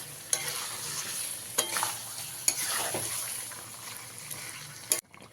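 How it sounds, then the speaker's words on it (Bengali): Chicken being stir-fried in oil for an aloo chicken curry, a steady close sizzle broken by several sharp spatula scrapes and knocks against the pan, with no voices. "ভালো করে মিশিয়ে নিয়ে এইভাবে চিকেনটাকে ভালো করে কষিয়ে নিতে হবে"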